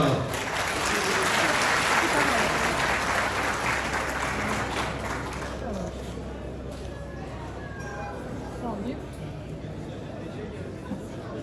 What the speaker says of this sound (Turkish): Sayın Vekil Bey kocaman bir alkış